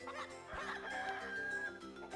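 Cuckoo chickens from Zelda: The Minish Cap cluck and crow in a steady, close, busy stream of bird calls with no talking.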